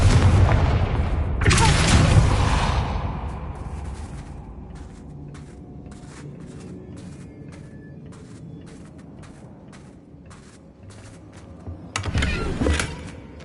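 Booming Confringo spell explosion in Hogwarts Legacy, a loud blast with a long rumbling decay and crackling debris, followed by a second burst near the end.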